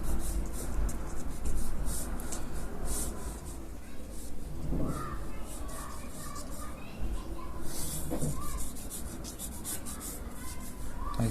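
A pencil scratches and rubs across paper while sketching a mask template, soft continuous strokes in close, quiet detail, with a few brief louder scrapes along the way.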